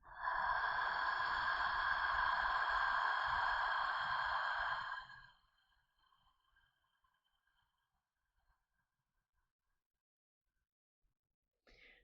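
A long, steady, breathy exhale during yoga breathing lasts about five seconds at an even loudness, then fades into near silence with a small sound at the very end.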